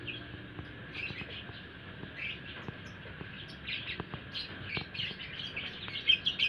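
A lovebird chirps in quick, scattered high tweets, some in short bursts, growing busier toward the end, heard close and fairly quiet against a faint background with small clicks.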